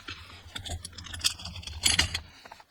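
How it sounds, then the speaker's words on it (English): Metal screws clink and rattle in a hand while trim is refitted inside a Volkswagen Golf R cabin, a few close jangling bursts over a low steady hum. "now we're going to be putting these 4 bolts or the screws back in"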